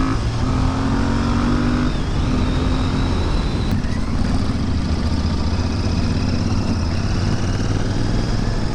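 A Royal Enfield Interceptor 650 motorcycle riding along a rough road, its engine droning steadily and loudly under continuous wind rush, with no talk.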